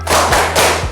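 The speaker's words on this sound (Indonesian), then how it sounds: "Tepuk semangat." Three sharp group claps in quick succession, a rhythmic spirit clap from a classroom group during an Indonesian language lesson, loud and close with no talking over it.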